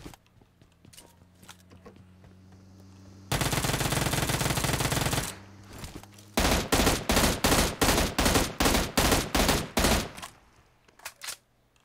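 M16 rifle on automatic fire in PUBG Mobile: a long sustained burst, then a loud run of rapid, evenly spaced shots in quick succession, close and dominant with no talk.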